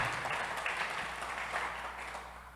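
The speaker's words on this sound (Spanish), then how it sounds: "Puede aplaudir al Señor" A church congregation applauds together in a steady, even wash of clapping that holds for a few seconds and fades slightly toward the end, with no voices over it.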